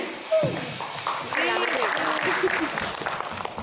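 Audience applause at a Livon hair tonic product event during a Delhi conference, a crowd clapping steadily for a few seconds, with voices and cheering mixed into the noise.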